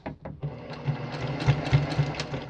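A sewing machine stitches a cross stitch pillow, its needle thumping in quick rhythmic pulses after a couple of short starting knocks, close and fairly loud.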